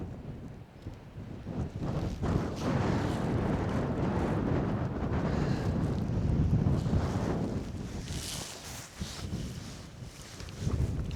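Strong gusts of wind on the coast at St Lawrence, Isle of Wight, buffet the microphone in a continuous roaring rush, swelling and easing slightly with no voices.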